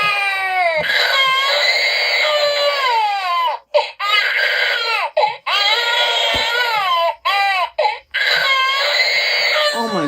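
A RealCare infant simulator doll cries loudly and close, a continuous wailing infant cry broken by a few brief pauses, with no talking over it.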